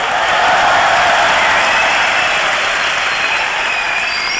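Loud, dense audience applause from a large crowd at a 1999 university students' convention closing worship ceremony, a steady unbroken roar of clapping throughout.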